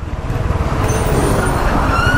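A Royal Enfield Hunter motorcycle's low, throbbing engine rumble swells as it revs, steady and close, with a faint high whine riding above it.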